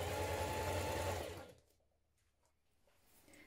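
A sewing machine stitches the shoulder seam of a ruffle dress bodice, a fast steady mechanical whirr for about a second and a half, then stopping to quiet handling noises.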